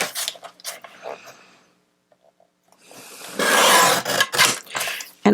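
A recycled Christmas card being trimmed with a craft cutter, giving close, loud rasping and scraping strokes in short bursts, a brief near-silent pause, then a longer heavier scraping pass.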